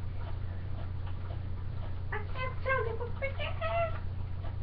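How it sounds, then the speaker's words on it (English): A cat meows several times in quick succession, close and clear, over a steady low background hum. "This is my cat, Tiggy."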